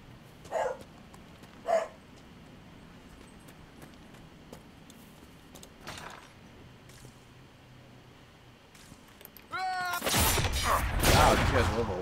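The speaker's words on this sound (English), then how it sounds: "Probably hear the neighbor dogs." Neighbor's dogs bark at a distance, two faint isolated woofs early on and another later, over quiet room noise before louder game sounds take over.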